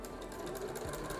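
Sewing machine with a walking foot stitching a quilt, a quiet rapid mechanical rattle running steadily through the short moment.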